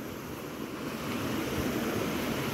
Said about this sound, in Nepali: हल्का खोला बगिरहेको है।